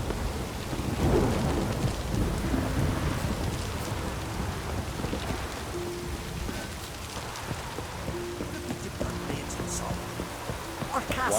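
Heavy rain and rolling thunder in The Witcher 3, a dense steady downpour with deep rumbling thunder throughout, plus faint voices in the background.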